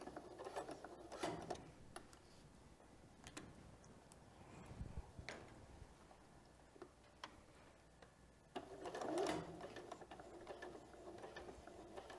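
A sewing machine stitching a fabric face mask, a faint mechanical ticking and whirring that runs through the quiet room, with a few louder rustles and bumps of handling in between.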